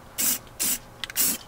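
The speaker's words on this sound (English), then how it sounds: "spray on." Dupli Color 1K clear coat sprays onto stock Subaru STI wheels in three loud, even hissing bursts, each with a short gap after it and a faint rattle before the last.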